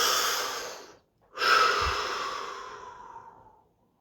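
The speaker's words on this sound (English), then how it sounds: "Deep breath." A close, loud deep breath with a long airy exhale, a brief silent pause, then a second long breath that slowly fades away, heard alone without talk.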